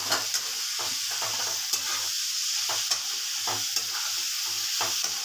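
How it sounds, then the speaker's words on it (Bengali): Chopped tomato and onion fry with spices in a hot pan, a steady bright sizzle broken by regular scraping stirs, close up with no voices. "সেইটাকে এবার একটু ভাজতে হবে, মশলাটাও কষবে, এইগুলো ভাজা হবে।"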